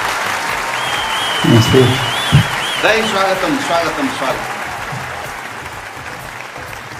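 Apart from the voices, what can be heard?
audience applauding to welcome comedians on stage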